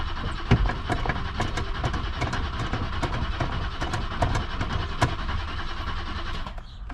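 A vintage BMW car, pulled from a junkyard after years of sitting, cranks over without catching: a loud, steady starter whir with fast rhythmic clicking runs unbroken for about seven seconds before easing off at the end.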